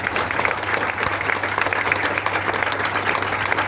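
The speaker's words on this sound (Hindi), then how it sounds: "बस उतनी ही तालियां बजा" Steady, dense applause from a crowd, loud and continuous throughout with no pauses.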